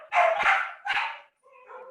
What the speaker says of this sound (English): I don't know that they're going to stop barking.